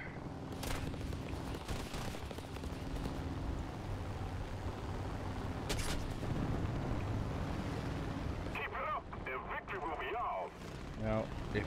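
Gunfire and artillery from the War Thunder combat flight game roar steadily under game noise and wind, with bursts of shots throughout and a shift toward sharper, choppier firing near the end.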